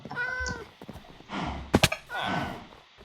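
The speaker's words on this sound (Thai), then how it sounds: "โอ้โหเพื่อนดูแมวดิ" A cat meows in Minecraft, a couple of short cries heard alongside game clatter and a sharp triple knock.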